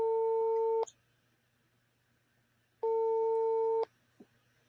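A phone's ringback tone sounds twice, two steady electronic beeps about a second long each, separated by a couple of seconds of quiet, with a faint click after the second.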